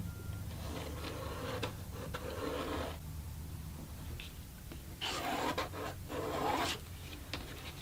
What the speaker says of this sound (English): So I've just drawn on 2 lines that are 4 inches apart.